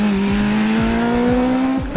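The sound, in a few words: ZCars Twin R1 race car driving fast on track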